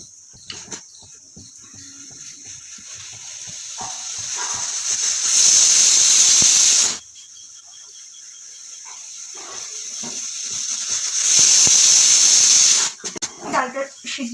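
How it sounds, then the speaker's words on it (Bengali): A pressure cooker boiling lentils with garlic and salt over a gas flame gives two loud, sustained steam hisses from its whistle, each lasting a couple of seconds, with quieter kitchen clatter between them. "প্রেশার কুকারে ডালটা সিদ্ধ করতে দিয়ে দিলাম।"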